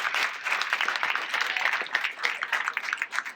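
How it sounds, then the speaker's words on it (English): A conference crowd gives a round of applause for a school board member, with moderately loud clapping from a modest group that is thick at first and then thins into uneven, separate claps. "Give her a round of applause."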